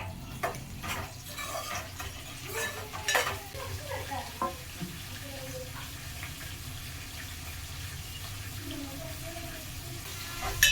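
Carrot and tomato pieces fry in a pan while a utensil stirs and clinks against it, giving a continuous sizzle under irregular scraping and clattering.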